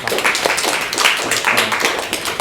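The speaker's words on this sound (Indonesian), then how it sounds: "Kelompok 4, tepuk tangan kelompok" A group applauds with steady, dense clapping that continues throughout without a break.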